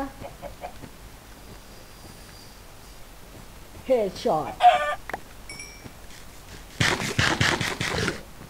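Chicken clucks from the video game Minecraft, a few short clucking bursts in the middle of the clip, followed by a louder, scraping burst, with someone talking over the game sounds.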